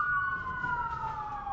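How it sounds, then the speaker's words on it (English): A loud emergency vehicle siren wails steadily and close by, its tone sliding slowly downward as the vehicle goes past, with no voices over it. "Here come the sirens."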